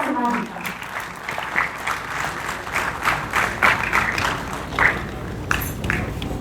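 Audience applause at a stage event honouring a guest, a steady wash of clapping from a crowd with a voice speaking over it.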